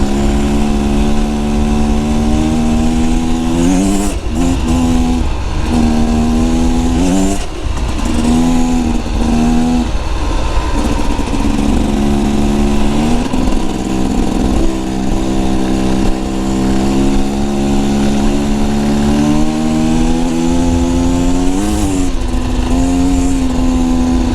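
A 2024 Beta Xtrainer dirt bike engine drones steadily on a mountain-pass adventure ride, its pitch rising and falling with repeated throttle changes and shifts, loud and close throughout with no talking.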